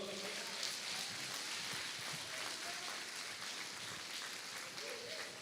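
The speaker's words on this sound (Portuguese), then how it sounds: "dê um forte aplauso ao Senhor" A church congregation applauds during a sermon, a continuous dense crackle of clapping from a large crowd, steady and even throughout, with faint voices mixed underneath.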